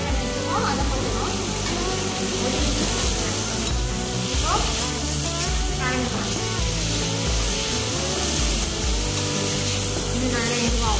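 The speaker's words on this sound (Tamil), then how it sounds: "தக்காளி நீட்டாக கட் பண்ணி வச்சுக்கோம். அதை போட்டுக்கணும்." Chopped tomatoes hit hot oil in a pan while cooking capsicum rice, giving a loud, continuous sizzle and crackle with occasional stirring scrapes, close up. A voice speaks over it at times.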